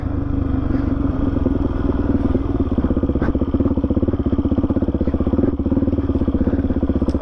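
A Suzuki DRZ400E dirt bike engine pulses close and loud with a steady, rapid single-cylinder throb while riding a bush track, holding a constant pitch throughout.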